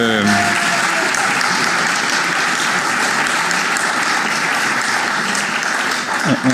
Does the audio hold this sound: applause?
yes